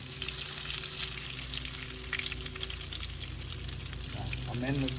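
Croquettes fry in hot grease in a pan, a steady dense sizzle and crackle running throughout at moderate level, with a few brief handling sounds near the end.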